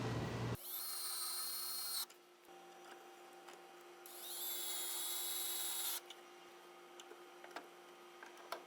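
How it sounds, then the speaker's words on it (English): A power drill driving pocket screws into a wooden bookshelf project, two distinct high whining bursts with a pause between, then quiet ticks. "And we can install 2 pocket screws."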